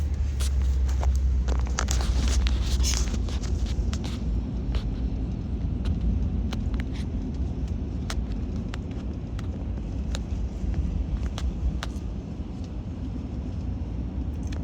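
A four-wheel drive vehicle crosses a rough North Carolina beach with a loud, continuous engine rumble and scattered rattles and knocks from the bumpy ride.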